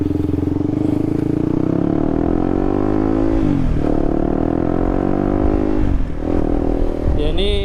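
Honda CB150R motorcycle on a test ride, its engine droning steadily close up with rising and falling revs as the rider accelerates and shifts, two brief dips where the throttle eases, and wind rush throughout.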